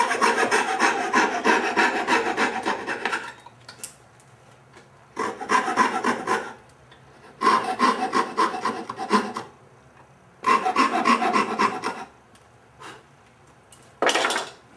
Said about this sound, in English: Finished coping away the material on all the pieces.